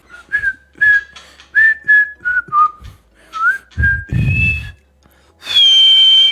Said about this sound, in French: j'ai un don pour siffler mal